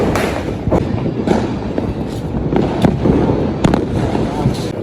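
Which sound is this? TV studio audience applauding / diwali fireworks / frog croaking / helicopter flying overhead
diwali fireworks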